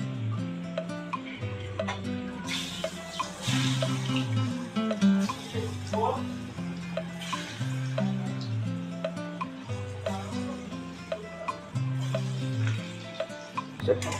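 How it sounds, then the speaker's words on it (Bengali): Dhoka lentil cakes deep-fry in mustard oil in a wok, giving a steady bubbling sizzle with occasional stirring, partly masked by background music throughout. "কড়াতে তেল বসিয়েছি, এতে আমি সরষের তেল দিয়েছি। এবার এগুলো এক এক করে সব ভেজে নেব।"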